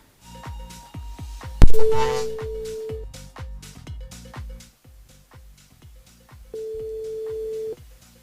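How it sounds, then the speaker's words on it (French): A phone call placed live on a radio show rings out, with two bursts of a steady telephone tone separated by a stretch of rhythmic background music, loud and close. "On appelle Muriel sur le standard de l'émission."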